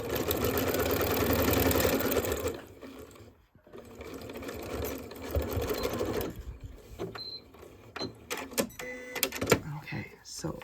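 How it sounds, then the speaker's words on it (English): Sewing machine running a quarter-inch seam across a scrappy heart quilt block, a steady close whir for the first few seconds, then shorter bursts of stitching with someone talking over them. "we can stitch using our 1/4 inch stitch, and it will keep these nice in line"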